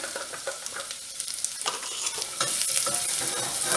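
Chopped shallot sizzling and frying in a pan of butter and garlic, a continuous crackling hiss that grows a little louder toward the end, with no talk.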